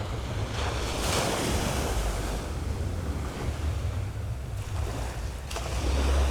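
Surf washes steadily onto a beach in Aruba, a continuous broadband roar of breaking waves with gusts of wind buffeting the microphone throughout; no voices.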